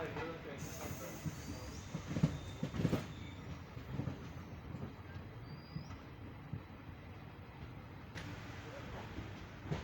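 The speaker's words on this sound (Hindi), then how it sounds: "हमारी ट्रेन डिपार्ट कर रही है लोंडा जंक्शन।" The Vishwamanava Express passenger train departs Londa Junction, its wheels thumping and rumbling over the rails in a steady low roar heard from inside, with people talking over it.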